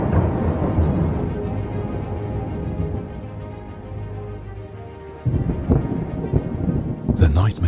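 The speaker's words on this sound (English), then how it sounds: "The nightmare storm fills the sky now" A thunderstorm sound effect for a fantasy audio drama: deep, rolling thunder rumbles continuously with rain, swelling into a louder, sharper crack near the end.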